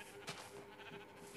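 Sheep on a Minecraft farm bleat in short, faint bursts from the game, with a background hum and light chatter.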